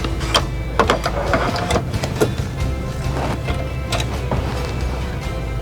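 A sewing machine stitching fabric, running in short irregular bursts of mechanical chatter with small pauses between, fairly close and with no talking.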